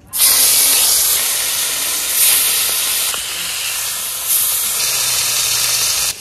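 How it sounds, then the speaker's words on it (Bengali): Murrel fish hisses and sizzles loudly as it is laid into hot oil in a pan, a steady close frying spray with a few surges, alone without talk. "তেল গরম হয়ে গেছে, মাছটা দিয়ে দেবো।"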